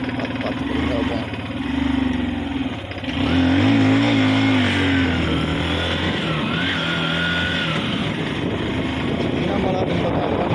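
A motorcycle climbs a sloping hill road, its engine droning steadily up close with rising and falling pitch, mixed with wind rush and a rider's voice over it.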